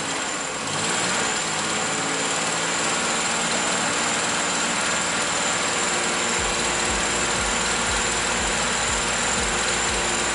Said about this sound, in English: I just want to raise it up like 1500 RPMs, give or take.